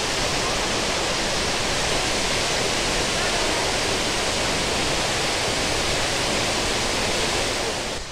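Abbi Falls waterfall roaring as a dense, steady rush of falling water, loud and enveloping from nearby, unbroken throughout.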